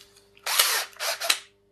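A power drill runs in two short, close bursts, the second briefer, with quiet pauses around them, while a hammer handle is made from recycled wood.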